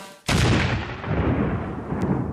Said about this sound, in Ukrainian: Вибухівка буквально заїжджає на ворожу позицію.